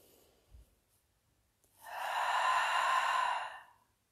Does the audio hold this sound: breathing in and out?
yes